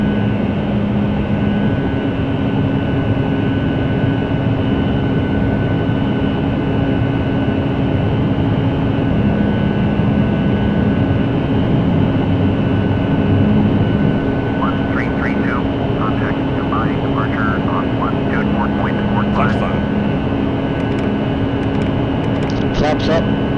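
Boeing 757 jet engines roar steadily in the cabin during the takeoff climb out of Dubai bound for Jordan, a loud continuous drone with a low hum. Some voices are heard faintly over it near the end.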